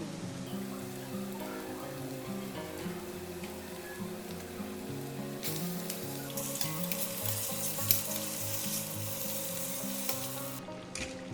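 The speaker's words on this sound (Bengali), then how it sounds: "এবারে আমি চিকেনটা দিয়ে দেবো হালকা ভেজে নিয়েছি ম্যারিনেট করা চিকেনটা দিয়ে দেবো" Marinated chicken sizzling with onions in a pan, a steady crackling fry that runs throughout, with brighter spitting bursts in the second half and a single sharp tap near the end, close and moderately loud.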